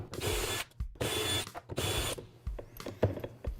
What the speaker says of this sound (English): So we'll remove the screws from the secondary diaphragm.